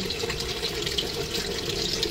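Water is poured steadily from a tap into a pot holding black chicken, pork and ginseng for soup: a continuous close splashing rush, alone.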